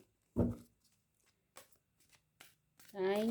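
Tarot cards shuffled by hand, short papery riffles and slaps scattered across a few seconds, close up and soft, with someone speaking between them.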